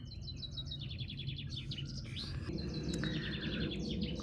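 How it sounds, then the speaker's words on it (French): Birds sing outdoors beside a camper van, repeated bright chirping trills and whistled phrases overlapping one another over a low steady background hum. "avec les oiseaux qui chantent"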